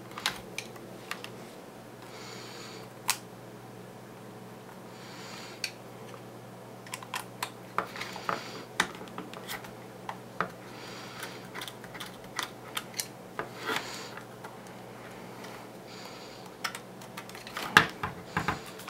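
Small screws on a PS4 controller being worked loose, with faint scattered clicks and ticks of a tiny screwdriver over a quiet background, sparse at first and busier later.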